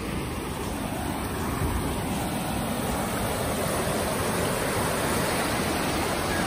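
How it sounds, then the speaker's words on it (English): Steady broadband rush of flowing river water in France, continuous and fairly loud throughout with no pauses, running close by. "You can hear the water already in the background."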